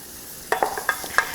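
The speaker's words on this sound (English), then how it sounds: "So stir these two lovely ingredients together." A butter and flour roux is stirred in a hot pan, with a spoon scraping in a few quick strokes over a soft, steady sizzle, close up and alone.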